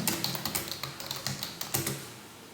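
Quick keystrokes on a computer keyboard, a brisk run of distinct close clicks and taps in an irregular rhythm, fairly quiet.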